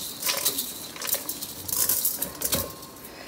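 Urad dal tipped into a hot pan while cooking a radish and curry leaves curry, giving light scattered patters and ticks of dry lentils landing. The bursts are faint and irregular over a few seconds, with no speech.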